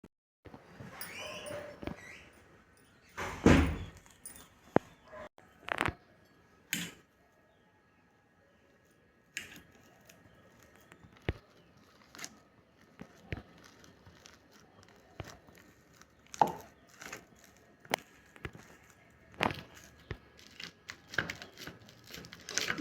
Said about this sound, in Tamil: இப்போ இதை உரிச்சிட்டு சின்ன சின்ன பீஸாக கட் பண்ணிடலாம்.